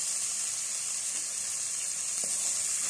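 Raw rice frying for chicken biryani in a home kitchen pan on low heat gives off a steady, soft sizzle and hiss, with no talking.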